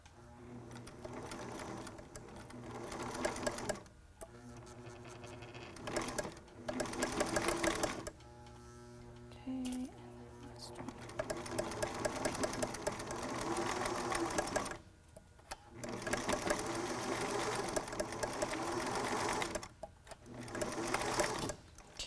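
A sewing machine stitches a face mask made from a T-shirt, running in long steady bursts broken by short pauses, close and even in loudness throughout.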